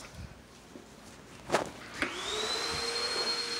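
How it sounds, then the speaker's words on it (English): After a couple of clicks and thumps, a vacuum cleaner motor whirs up and keeps running with a steady high-pitched whine. "She says you got the scary vacuum."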